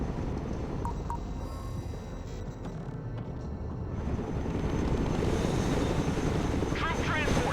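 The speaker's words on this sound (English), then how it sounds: "Let's go and recover it with our helicopter." A cargo helicopter in the war video game Broken Arrow lifts off, its rotor thrum building steadily from a low murmur to a loud, broad whir, with a thin turbine whine rising near the end.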